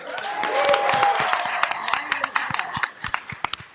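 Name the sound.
applause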